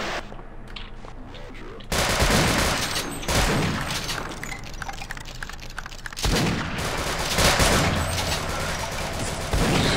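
Shotgun blasts and heavy gunfire from the Half-Life: Blue Shift video game pour out in dense, loud bursts with explosions, filling the whole stretch almost without pause.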